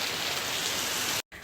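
Steady, heavy rain falls in Rottung village in Arunachal, a dense, even hiss of drops on surfaces close by, cut off abruptly near the end.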